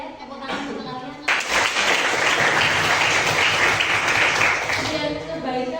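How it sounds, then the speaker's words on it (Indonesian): Students in a grade 11 classroom burst into loud, dense clapping after a teacher's voice, the applause sustained for several seconds before tapering off as speech resumes. "Tepuk tangan untuk kalian."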